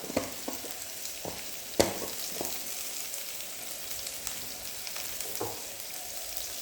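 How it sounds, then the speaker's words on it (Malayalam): Mulberry leaf thoran stir-fried in a pan, a steady soft sizzle broken by scattered scrapes and clicks of a spoon stirring, with one sharper knock near the start; no voices. "നമുക്ക് നന്നായിട്ട് ഇളക്കി കൊടുക്കാം."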